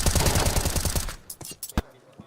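Gunfire in a professional Counter-Strike match, a rapid automatic burst for about a second followed by a few scattered single shots, with possible commentary underneath.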